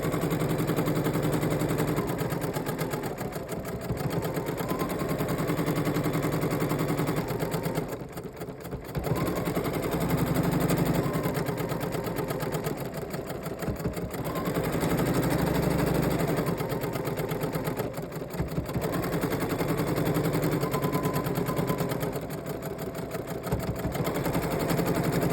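A sewing machine stitches lone star diamond quilt block pieces in steady, rapid mechanical runs, loud and close, with brief pauses between seams.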